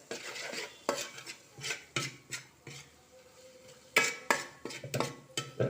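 A spoon stirs and scrapes fish pickle gravy around a pan in short, uneven bursts of clinking and scraping, close up with no voices.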